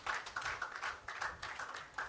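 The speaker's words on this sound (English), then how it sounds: "Keep clapping till they get to their seats." An audience at a women's wealth and real estate conference applauds in bursts of steady clapping that come in loose waves, heard from a distance and fairly faint, with no talk over it.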